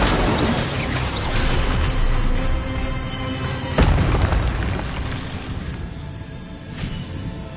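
Incendio fire spell blasting in the video game Hogwarts Legacy: a loud, booming burst of flame that rumbles continuously for several seconds, with a sharp crack near the middle before the roar slowly fades.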